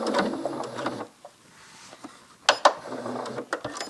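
A sewing machine stitches a pillowcase, two close, loud runs of rapid mechanical whirring separated by a quiet pause, with a few brief clicks and knocks while the fabric is handled.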